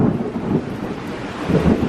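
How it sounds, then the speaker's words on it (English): Thunder rumbles low and steady during an outdoor rainstorm, with heavy rain hissing throughout and two stronger swells of rumble near the start and end. "Wait for the thunder."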